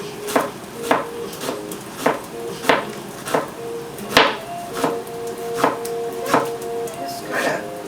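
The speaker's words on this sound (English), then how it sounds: "I'm going to go ahead and slice up some onions" Knife slicing onions on a cutting board, a steady series of sharp knocking cuts roughly every half second to second, close and distinct, with a faint background hum.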